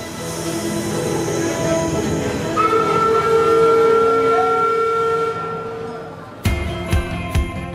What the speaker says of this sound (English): And then, of course, we have our train that you can jump on.